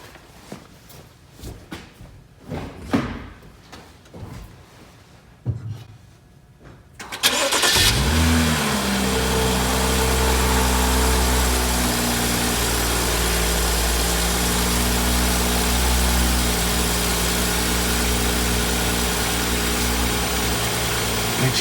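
Car engine starting after an oil change: a few scattered clunks and handling noises, then a sudden crank and catch into a brief rev that settles into a steady, loud, close idle for the rest of the clip.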